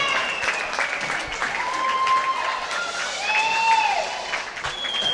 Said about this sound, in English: And you hear the crowd. Mansfield's got a packed house.